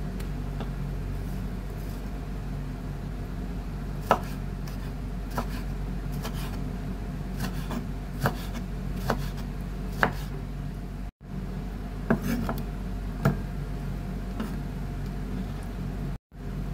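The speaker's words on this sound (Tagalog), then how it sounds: "Slice natin itong kamatis." Tomatoes sliced with a knife on a board while preparing Ilocano pakbet, giving a dozen or so sparse, sharp cuts at irregular intervals over a steady low background hum, with no talk.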